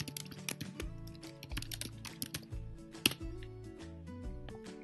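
Rapid, close keystrokes on a computer keyboard as a command is typed at a Linux command line, an uneven run of light clicks and taps that is fairly quiet and carries no speech.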